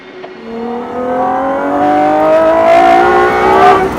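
A Gordon Murray T.50 supercar accelerates hard, its engine note climbing smoothly in pitch as it revs up, loud and close, with no voices.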